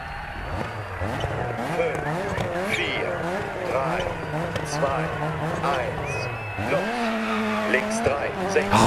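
A Group A rally car in DiRT 4 accelerates through a stage, its engine revving up and down in rising sweeps with gear changes, while someone talks over the driving.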